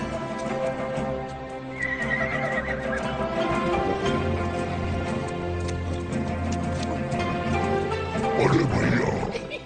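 A horse whinnies in a dubbed action film scene, a long harmonic neigh over steady clip-clopping hooves, with a loud closing whinny and faint voices in the mix.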